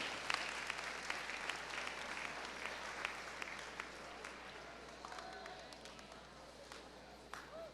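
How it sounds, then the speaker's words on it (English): A crowd at a high school honors awards assembly applauds steadily, many hands clapping at once in a sustained, slightly distant wash of sound, with a few louder claps standing out. "Let's have a round of applause for these students."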